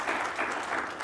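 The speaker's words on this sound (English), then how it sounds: "RJ, yes, let's clap." Audience applause fills a college president's budget address, a steady, dense patter of clapping from a crowd lasting about a second with no voices over it.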